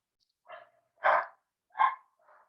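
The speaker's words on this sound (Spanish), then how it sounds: "pero es un pastor alemán. Es un buen perro." A German shepherd dog barking nearby, three to four short, separate barks spaced about half a second apart, with the middle two loudest, in an otherwise quiet room.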